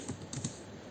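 Computer keyboard keys click in a quick cluster of a few taps while code is typed, close and soft over a steady room hum.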